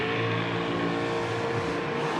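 A nitro dragster roars down the drag strip at Mid-State Dragway, a loud, sustained broadband engine blast with no gaps, heard close and without talk.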